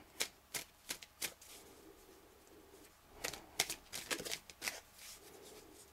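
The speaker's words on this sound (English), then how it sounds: "So I'll just pull about 6 to 7 tarot cards and see what comes out." Tarot cards are shuffled by hand in faint, sharp riffles and slaps, first a few spaced bursts and then a denser flurry, with no voices.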